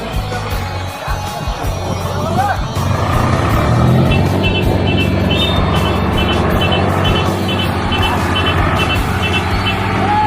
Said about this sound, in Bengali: দেখো পুরো রাস্তা জাম লেগে গেল গাইস